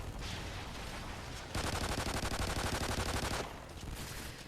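Rapid automatic gunfire in the Call of Duty Ghosts Extinction game, a dense sustained burst of shots lasting about two seconds, set between quieter stretches of scattered firing.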